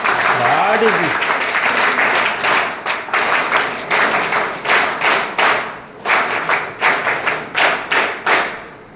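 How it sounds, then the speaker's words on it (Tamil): Scattered audience clapping at a Tamil group therapy training session, starting with a short voice and then breaking into uneven bursts of claps that rise and fall in loose clusters. "கைதட்டுங்கப்பா"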